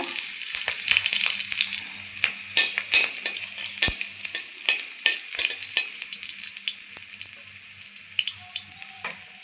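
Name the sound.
green chilies frying in mustard oil in a wok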